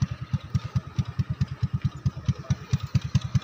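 Several motorcycles idle and putter nearby in a scenic outdoor spot, a steady, fast, throbbing engine pulse running the whole time with no talk over it.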